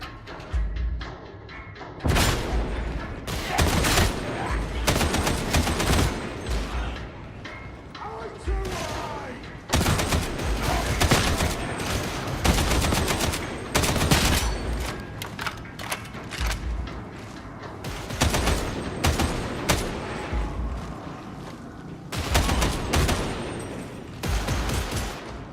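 Gunfire erupts aboard a traitor-overrun ship in Warhammer 40K: Darktide, with loud bursts and volleys of shots coming in repeated clusters alongside mechanical clanks and thuds, and voices speaking at times.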